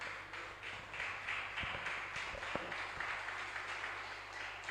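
A church congregation applauds during a sermon, giving steady, diffuse, moderately loud clapping that fills the room throughout, with no voices.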